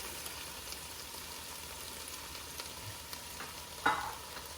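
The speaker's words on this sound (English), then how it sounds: "So I've been sauteing these veggies for about, 3 to 5 minutes." Vegetables for albondigas soup sautéing in a pot, giving a faint, steady low sizzle throughout with one brief clink of a utensil near the end.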